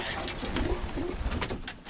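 Birmingham Roller pigeons coo in a loft, a low, quiet burble repeating a couple of times over faint room noise.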